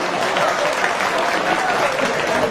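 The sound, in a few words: audience applause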